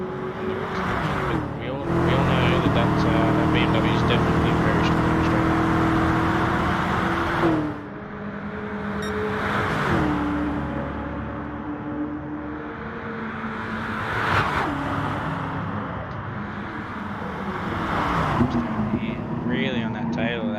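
A BMW race car engine roars in a racing video game, loud and sustained with rising and falling pitch as gears shift, other cars passing along a straight, while a commentator talks over it throughout.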